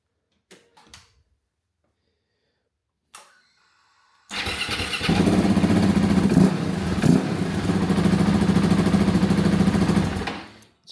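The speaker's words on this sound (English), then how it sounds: "you really hear the air intake if you are giving it a little bit of go" A KTM 690 Enduro R 2024 single-cylinder motorcycle with a Carbonfox air intake and a loud exhaust. After a few quiet clicks, the engine fires and runs loud and close for about six seconds with throttle blips, then cuts off abruptly.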